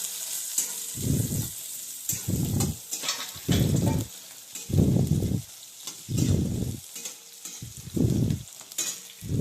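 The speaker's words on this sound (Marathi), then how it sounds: "कांदा टाकत मध्ये. हलवून घ्यायचं असं." Onion frying in a pan is stirred in a steady rhythm, with about seven distinct scraping strokes rising over a continuous soft sizzle.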